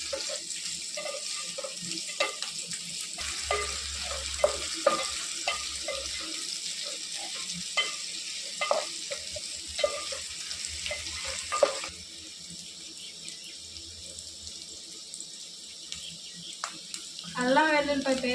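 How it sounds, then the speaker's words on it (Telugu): Onions frying in a pan while a boneless fish fry is being made: an irregular sizzle with scattered crackles and utensil clatter, louder early and quieter later, ending in a brief burst of different noise. "బాగా ఫ్రై చేయాలండి. పచ్చి వాసన పోయేలాగా ఫ్రై చేయాలి."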